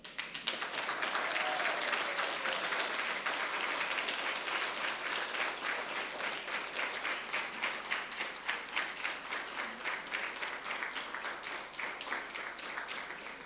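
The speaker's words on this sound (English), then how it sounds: "Give a round of applause to your loved ones." Steady applause from a large audience at a 2022 graduation ceremony, dense clapping that carries on for the full stretch without easing off, with no voices standing out above it.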